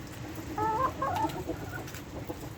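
A few chickens clucking outdoors in wet, windy weather, short close calls over a low rumble of wind.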